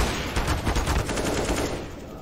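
Counter-Strike: Global Offensive gunfire from a professional match between Imperial and Mouz: dense, loud bursts of rapid shots that fill the whole stretch.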